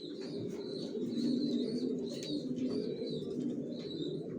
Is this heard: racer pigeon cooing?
yes